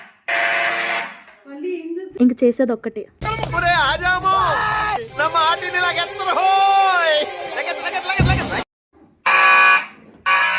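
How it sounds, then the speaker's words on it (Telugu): A building fire alarm in the USA sounds on several floors during snowfall, with a loud, wavering electronic tone running under people talking nearby. "పైన కాదు కింద కూడా ఫైర్ అలారం మోగుతుంది."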